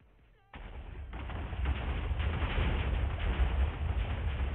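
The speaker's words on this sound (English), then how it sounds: "There's so much explosion." A dense video game barrage of explosions and rapid gunfire bursts in abruptly after a short quiet moment, then roars on loud and continuous with overlapping blasts and rattling shots.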